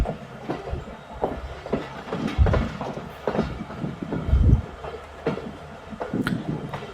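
The Bolan Mail of Pakistan Railways pulls into Spezand station with a rhythmic, close clickety-clack of wheels over rail joints. Heavy thumps recur every second or so among lighter rattles, with no talk.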